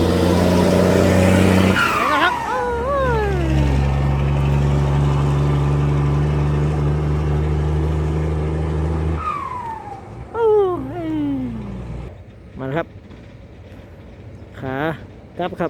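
A Hino ten-wheel truck engine revs hard and loud for several seconds with a steady low roar and a sharp rising whine. The engine then drops away as someone talks excitedly over fainter engine noise.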